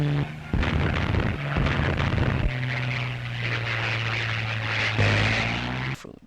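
A Hurricane fighter aircraft's anti-tank gun fires in a loud, sustained roar over the droning propeller engine, with the engine note steady and close throughout before it cuts off at the end.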